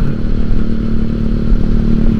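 A small Honda Beat scooter with a carburettor engine drones steadily as it is ridden along a highway, a close, loud, even engine hum with some rattling and no speech.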